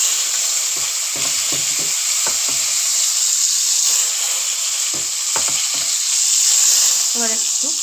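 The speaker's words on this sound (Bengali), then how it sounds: "এবার একটু নেড়ে নিচ্ছি পেঁয়াজটা" Grated onion sizzles steadily in a hot pan while a spoon scrapes and stirs it in short bursts, the clatter close and the frying hiss constant throughout.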